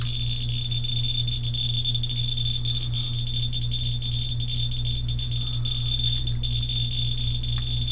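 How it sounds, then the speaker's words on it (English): A Ludlum scintillation counter radiation detector hums steadily just after being switched on, giving a constant electronic tone with a sharp high whine above a low buzz, unbroken and even throughout with no one speaking. "Turn on the detector."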